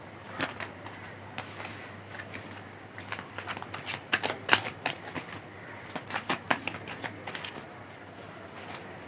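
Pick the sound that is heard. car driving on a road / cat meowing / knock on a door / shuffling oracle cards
shuffling oracle cards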